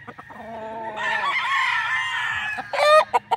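A Gilmore Hatch stag rooster on a farm in Bacolod City crows once, loud and close, a long drawn call followed by a few short clucks at the end.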